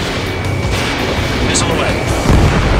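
A missile launch in Ace Combat 7, the Mission 02 stage, roars out as a loud, continuous whooshing blast with a heavier low thump near the end, mixed with radio chatter.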